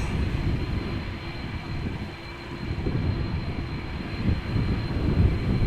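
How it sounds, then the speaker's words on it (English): A Delta Air Lines Airbus A330-300 jet bound for Detroit gives a steady, broad engine roar at middle distance, swelling slightly toward the end, with no talk. "next up a quote-unquote old-school A330-300 going to Detroit, Michigan"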